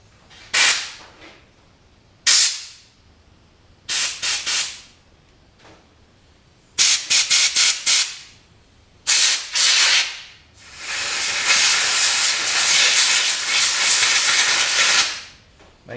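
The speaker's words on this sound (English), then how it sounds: "Clean it out with some carb cleaner real quick. Some compressed air." Compressed air blasts through a Holley carburetor being cleaned: several short loud hissing bursts, one rapid stutter of puffs, then a long steady blast of air close by, with brief quiet between the spurts.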